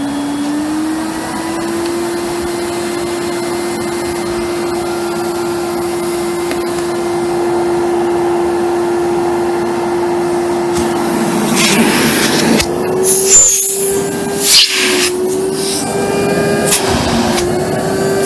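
An AEG Deluxe Electronic 608 Black Line vacuum cleaner runs with a steady motor drone that holds level, then its pitch steps up near the end as power rises, with a few bumps and clatter over the whine.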